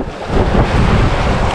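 Strong sea waves and gusting wind buffeting a small fishing boat out at sea, a loud continuous wash of water and wind rumble close to the microphone with no voices.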